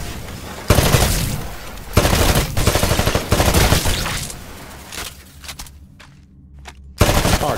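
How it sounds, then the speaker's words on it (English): Rifle fire in the video game Titanfall at shooting range targets: loud, rapid automatic bursts repeating in several long strings, with brief quieter gaps and faint clatter between volleys. "Switch to your rifle. Destroy all of the targets in the shooting range."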